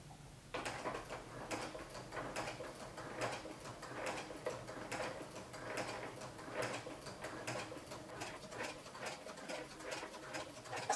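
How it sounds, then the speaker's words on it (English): A sewing machine fitted with a walking foot stitches slowly on a long stitch length, giving a steady run of soft, evenly spaced mechanical ticks and clicks at close range with no voices. "And then I'm going to stitch really slowly here."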